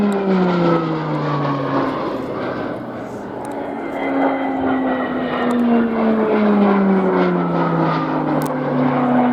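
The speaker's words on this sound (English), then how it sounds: "The Mustangs will now split up to carry out a flying" Propeller engines of Mustang fighter aircraft flying at the Royal International Air Tattoo air show, a loud continuous drone with sweeping pitch shifts as the planes pass, with faint announcer commentary underneath.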